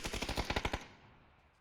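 A rapid burst of about nine automatic gunshots in PUBG, loud and evenly spaced, then a fading echoing tail with no voices.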